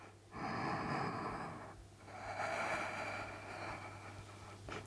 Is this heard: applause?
no